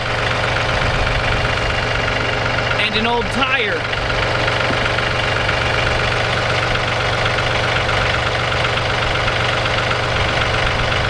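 An engine idles steadily with a low, knocking rumble throughout, while a person speaks briefly over it.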